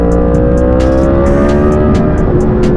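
A 2020 Yamaha MT-10 engine under way, a loud, close, steady drone that climbs gradually in pitch as the revs build, with no voices.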